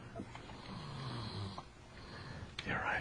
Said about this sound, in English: the snoring's getting better